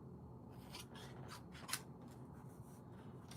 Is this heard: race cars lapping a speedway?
no